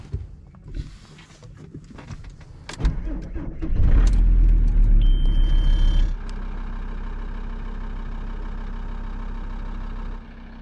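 A van engine turns over and settles into a steady, close idle after some rattling and clatter, the low rumble running on evenly to the end.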